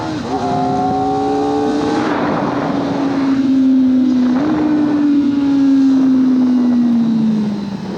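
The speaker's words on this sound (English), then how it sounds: "Those downshifts with the auto blip, so fun." A Kawasaki ZX-4RR motorcycle engine on a road ride wails at high revs, then drops through downshifts with automatic throttle blips. The engine note steps and falls, loud and steady under heavy wind rush.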